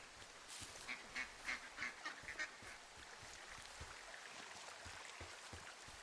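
Several quick duck quacks from unseen ducks in the Firewatch video game, a short burst of calls early on, fairly distant over a constant hiss of outdoor wind and ambience.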